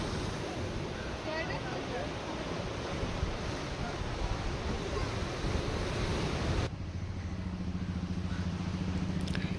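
Surf washing onto a beach where the sea meets a backwater estuary, a steady broadband roar with wind buffeting the microphone, continuous throughout and shifting to a lower rumbling tone near the end.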